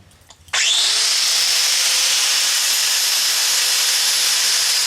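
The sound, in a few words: grinding down metal on a John Deere GX355 tractor part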